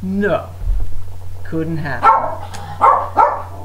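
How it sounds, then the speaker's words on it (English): A pet dog indoors barks several times in quick, uneven yaps and woofs, close and loud, mixed with someone talking over it and a low steady hum underneath. "That's my dog"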